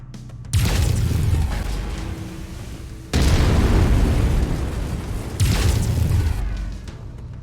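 Mech lasers firing in MechWarrior 5: Mercenaries, three loud, heavy roaring bursts of several seconds each, broadband and booming, close and dominant with no voices.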